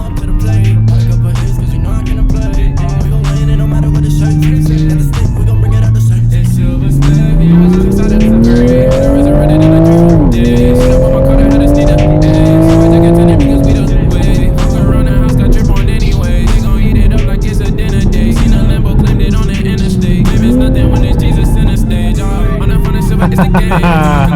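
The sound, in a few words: sports car accelerating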